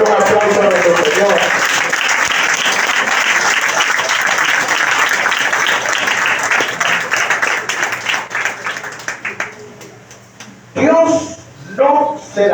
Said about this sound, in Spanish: Le doy un aplauso a nuestro Señor.